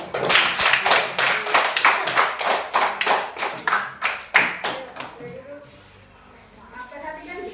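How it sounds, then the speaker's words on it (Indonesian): A classroom group of students claps for a presenting group, with a series of distinct hand claps in an uneven rhythm that fade after about five seconds, leaving quiet room tone. "tepuk tangan untuk kelompok 2"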